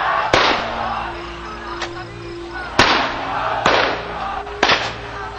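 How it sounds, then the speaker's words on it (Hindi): Bursts of gunfire from weapons fired continuously during a mourning gathering, four sharp cracks with echoing tails over a noisy crowd background. "लगातार असलहों से फायरिंग"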